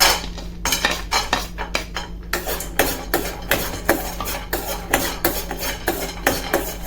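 A spoon stirs pistachios and other dry fruits roasting in a pan with repeated scraping and clinking strokes. The strokes come in a quick, irregular rhythm and sound close and clear, with no talk over them.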